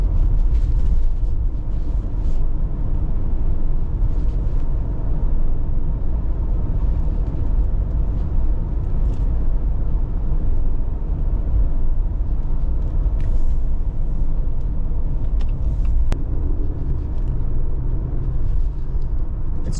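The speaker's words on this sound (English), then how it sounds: "Let's take it for another spin." A 2021 Jeep Wrangler drives along with a steady, loud low engine and road rumble that continues throughout, with a few faint clicks and knocks on top and no talking.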